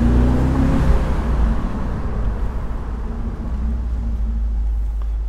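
An Audi S4 engine held in second gear, loud and close, with a strong low engine drone and harmonics that rise at first, then a steady heavy rumble throughout.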